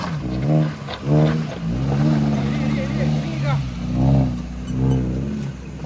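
A Maruti Gypsy 4x4 engine revs in repeated surges while crawling over rocks on a Karnataka jungle trail, the throttle rising and falling several times at close range with voices talking over it.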